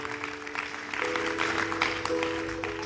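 A church congregation claps steadily in a mass of overlapping hands, a moderate wash of applause with a sustained organ-like tone held underneath.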